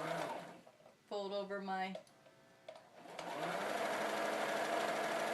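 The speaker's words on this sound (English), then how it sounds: "I'm just going to sew a tube" A sewing machine stitches a fabric tube for a big pocket apron in one quick, rapid mechanical burst of about a second. A person talks before and after it, followed by handling and rustling noise.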